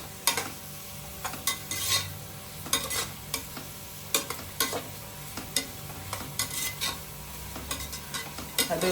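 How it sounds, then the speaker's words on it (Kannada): Onions roasting in a pan with a sprinkle of salt, stirred with a utensil: steady frying sizzle beneath repeated scraping strokes against the pan, close and even, with no voices. "ಈರುಳ್ಳಿ ಬೇಗ ರೋಸ್ಟ್ ಆಗ್ಬೇಕಂದ್ರೆ ಸ್ವಲ್ಪ ಉಪ್ಪಿನ ಪುಡಿ ಹಾಕೊಳ್ಳಿ"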